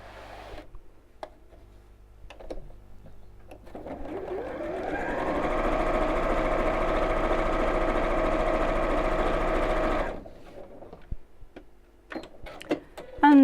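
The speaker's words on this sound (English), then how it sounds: "So the first thing I'm going to do is to sew across the top of these, right sides together" A domestic sewing machine runs in one steady burst of about six seconds, stitching across the top of backpack fabric pieces sewn right sides together, close and loud, with quiet handling noises before and after.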